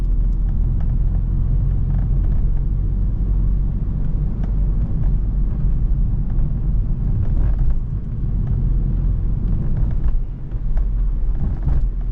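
A 400HP BMW 330i rolls slowly into a gas station, its engine a steady low rumble heard from inside the car with little change in pitch.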